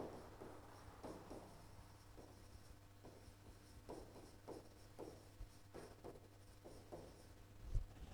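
Quiet, close scratching of pen strokes while working an algebra exercise, coming in irregular short bursts over a faint steady hum across eight seconds.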